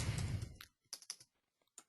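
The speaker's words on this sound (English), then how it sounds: "Some good typing again." Bursts of close computer keyboard typing, a dense run of clicks at first, then scattered separate keystrokes after short pauses.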